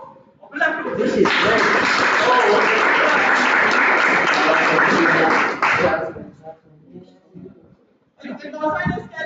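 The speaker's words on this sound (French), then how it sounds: "On peut l'applaudir." An audience at a staircase handrail installation training session breaks into loud, dense clapping that lasts about five seconds and stops abruptly, followed by quiet shuffling and then a voice speaking.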